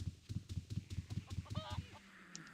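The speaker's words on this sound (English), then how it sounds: "listen to the chicken there" Rapid, rhythmic honking clucks from a chicken in the game Ultima Online, about a dozen quick calls followed by a brief warbling squawk, loud and close with no talk.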